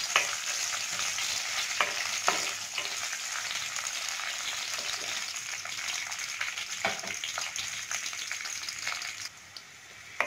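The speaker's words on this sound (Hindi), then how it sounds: "किशमिश और ये नारियल, इनको डाल के लाइट सा बस सौते करूँगी।" Raisins and coconut sauté lightly in oil over low heat for a sweet vermicelli dish. The pan gives a soft, continuous sizzle with occasional scraping stirs.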